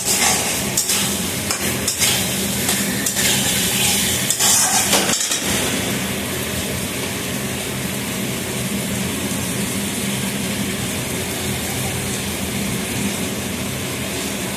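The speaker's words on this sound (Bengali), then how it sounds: "এই যে জল দিয়ে দিচ্ছি, দেখো" Potatoes for aloo dum cooking in curry in a pan as water is poured in, a steady broadband sizzle with scraping stirring, loud and close, with sharper clattering in the first five seconds.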